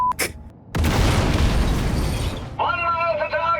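A flak cannon in the Sniper Elite video game blows up in a loud, sharp boom that breaks into a rumbling roar and dies away, followed by tonal game sounds.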